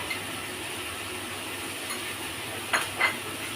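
Ginger frying in a pan gives a faint, steady sizzle, broken near the end by a couple of quick scraping clinks from a spoon stirring against the pan.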